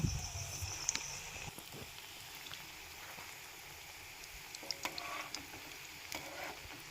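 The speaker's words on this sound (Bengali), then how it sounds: "সেখানে সাদা তেল দিয়েছি ভালোভাবে তেলটাকে গরম করে নিতে হবে দিয়ে পিঠেগুলো এক এক করে ভেজে নেব" Sweet potato pitha cakes frying one by one in hot white oil in a pan, a steady faint crackling sizzle with scattered pops, quiet and continuous throughout.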